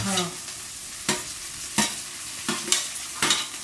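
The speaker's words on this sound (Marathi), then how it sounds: "आता आपण त्यामध्ये टोमॅटो टाकून घेऊ आणि टोमॅटोसोबतच कडेपत्ता इकडे टाकून घेऊ आपण" Tomato and curry leaves sautéing with browned onion in a pan for a Malvani-style wet cashew masala, a steady sizzle broken by about five sharp stirring scrapes at even intervals, close and moderately loud with no talking.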